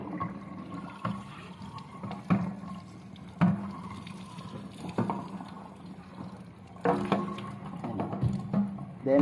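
Running water from a tap splashes steadily, with intermittent louder splashes and clatters as an aquarium airlift poop remover is rinsed under the stream.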